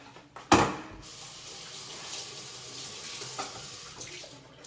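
Kitchen tap water running while washing for meatloaf preparation, a sharp splash at first followed by a soft steady stream, close and fairly quiet.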